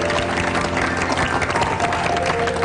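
An Indonesian lecture audience applauds as a steady, dense wash of clapping and crowd noise, loud and continuous throughout, with faint voices mixed underneath.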